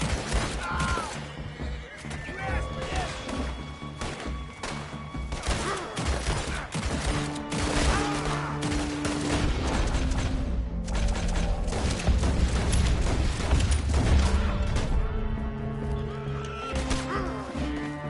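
Gunfire in a video game, delivered as sharp bursts of shots mixed with a tonal music score and other game effects, fairly loud and continuous across the stretch.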